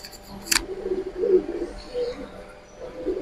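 A female pigeon of Afsan Bagha or Lal Gorra coloring coos softly while held by the tail, low rounded notes repeating close up, with one sharp click near the start.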